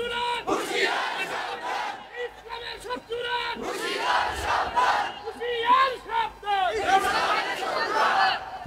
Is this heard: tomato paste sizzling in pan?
no